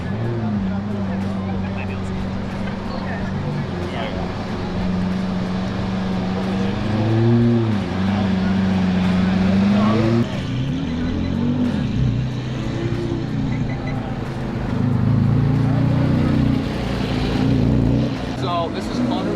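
A Lamborghini engine revs and rumbles as it drives past, rising and falling in pitch, with people talking over it.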